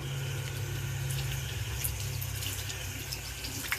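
Tap water runs into a bathroom sink while a cloth is rinsed under it, a steady close rush with small splashes and drips and no talking.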